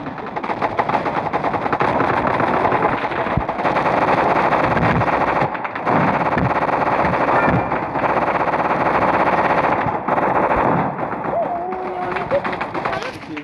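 Rapid automatic gunfire in a Roblox shooting game, with dense bursts of shots, brief gaps for reloading, and players talking excitedly over the action.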